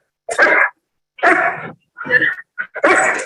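Dogs at a park give several short, sharp playful barks and yips, five close bursts with brief pauses between them, loud and near.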